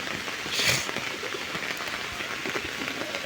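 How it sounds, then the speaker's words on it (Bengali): Heavy rain pours steadily in a rural spot where pigeons are kept, a continuous dense hiss of drops striking surfaces with no voices over it. "এখানে প্রচুর বৃষ্টি"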